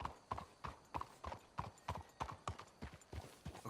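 Horse hooves clip-clop in the video game Red Dead Redemption 2, a steady, even rhythm of about three hoof beats per second at a walking pace, close and clear, with no talk.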